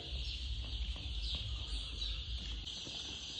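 Poultry chickens in a shed, a steady flock murmur with scattered soft clucks and chirps over constant low ventilation hum, no single bird standing out.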